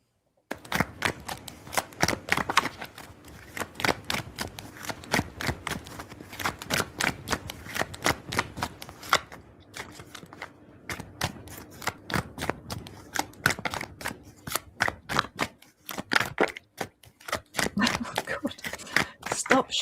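Deck of playing cards being shuffled repeatedly, with rapid riffling bursts and crisp flutters in a steady rhythm throughout, close and clear, with a brief pause midway.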